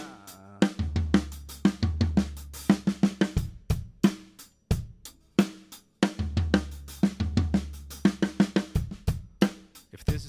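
Drum kit grouping with the right hand held on the snare while the left alternates between a tom and the hi-hat, a steady looping pattern of sharp hits and low tom thuds, played alone and close.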